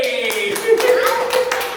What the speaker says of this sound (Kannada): ಕೊನೆಗೂ ಜೋರಾಗಿ ಚಪ್ಪಾಳೆ ತಟ್ಟಿ.